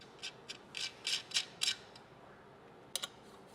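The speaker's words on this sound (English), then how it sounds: "And then we'll use a 3mm Allen wrench to tighten these up." 3mm Allen wrench tightening screws into feet on a switch-panel bracket for a 2022+ Toyota Tundra, a series of faint, quick metallic clicks in small bursts, with a short pause before two final ticks.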